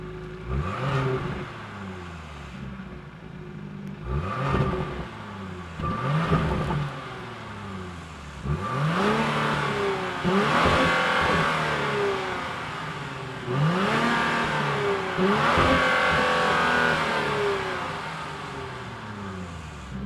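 A 2026 Genesis GV80 3.5-liter twin-turbo V6 revs repeatedly in sharp bursts, climbing and falling in pitch, loud and close with a throaty tone and no talking.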